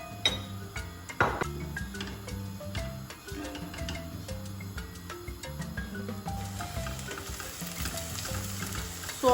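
Onion and garlic sizzle in a frying pan while a utensil stirs them, with scraping strokes and light clinks over a steady frying hiss close by, no voices.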